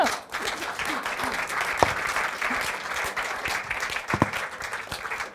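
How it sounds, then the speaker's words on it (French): An audience applauds continuously, a dense wash of clapping hands that holds steady throughout with a few sharper claps standing out. "Je crois qu'on peut l'applaudir."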